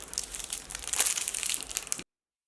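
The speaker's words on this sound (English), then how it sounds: "Let me remove the covers one by one." Thin plastic covers crinkle and crumple as they are pulled off makeup eye brushes, a close, continuous rustle lasting about two seconds, with no talking.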